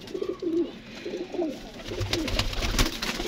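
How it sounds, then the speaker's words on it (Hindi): Soft, rolling coos from loft-kept pigeons repeat in quick succession near the microphone, quiet and close, followed by a few shuffling and thudding noises. "ये जी माशाल्लाह जाक्षी ने कबूतर हैं और बड़े अच्छे कबूतर हैं"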